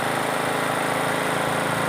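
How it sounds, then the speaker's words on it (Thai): A Maruyama MS 613 sprayer's engine, throttled by remote control, runs with a steady, loud mechanical drone that stays level and continuous throughout. "ใช้รีโมทในการเร่งเครื่องนะ"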